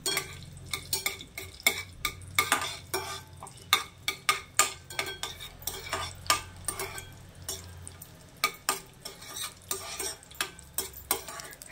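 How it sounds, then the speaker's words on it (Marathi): Small cashew and almond pieces are stirred in ghee in a kadai, with a soft continuous sizzle under repeated sharp scrapes and clinks of a spoon against the pan, close by and with no voices. "तुपामध्ये काजू व बदाम हलके असे फ्राय होईपर्यंत परतणार आहे।"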